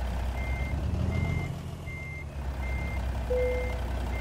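A truck in a driving video game backs up with a steady reversing alarm, regular evenly spaced beeps sounding clearly over a low engine rumble, with no talk.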